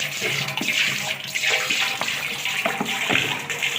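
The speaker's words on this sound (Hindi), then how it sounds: "पानी हम इसमें ऐड कर रहे हैं।" Water being poured into a mixing container while making liquid dish wash, a steady splashing, gushing stream at close range with no talking.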